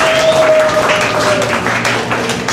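Applause breaks out in a church congregation during a prayer service, a dense burst of clapping from many hands with some voices mixed in, loud and close.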